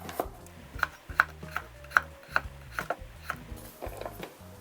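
A knife thinly slices a carrot on a cutting board, producing about a dozen close, crisp knocks in an uneven steady rhythm, with no voices.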